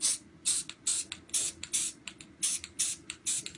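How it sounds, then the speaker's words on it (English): A spray paint can being shaken in quick bursts, the rattle swishing and hissing in uneven pulses, close and fairly quiet, with no talking. "Quite a new can, so I've got to shake up a little bit."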